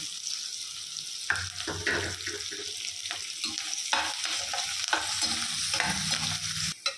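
Onions and curry leaves sizzle steadily in a hot pan as a utensil stirs and scrapes through them, a continuous close crackle with irregular scraping strokes.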